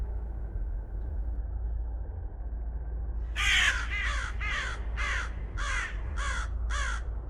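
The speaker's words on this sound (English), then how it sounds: "A darkened forest of tall trees filled with birds, squawking ravens" Ravens caw in a dark forest, a run of about eight harsh, evenly spaced calls starting partway through, loud and fairly close over a low steady rumble.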